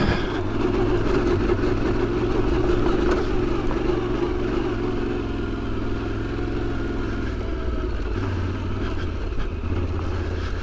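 A 2025 Yamaha Tenere 700 motorcycle engine drones steadily and close while climbing a rocky hill, holding a constant mid-range rumble with slight shifts in pitch.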